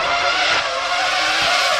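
Formula One car in the Assetto Corsa racing game, a loud high-pitched engine scream with a continuous tire skid, steady and close for under two seconds.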